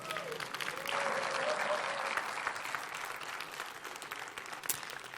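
Steady applause from a conference audience fills the whole stretch, a dense wash of clapping that swells slightly and then tapers.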